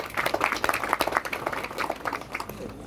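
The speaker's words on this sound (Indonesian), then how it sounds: "Tepuk tangan dulu untuk beliau insya Allah" An Indonesian religious gathering's audience bursts into applause, a busy, close crowd of uneven clapping that thins slightly toward the end.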